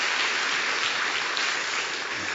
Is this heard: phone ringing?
no